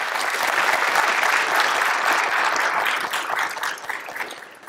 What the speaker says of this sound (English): please give them a big round of applause as well